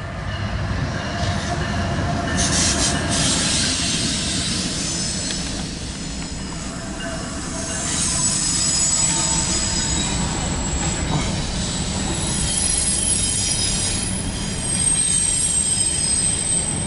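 A long CSX intermodal freight train led by an SD70AC locomotive rumbles steadily past close by, wheels squealing and rails clattering throughout, loud and continuous with no voices.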